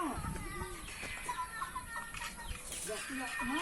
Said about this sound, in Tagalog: Ito ang mga manok kong palay na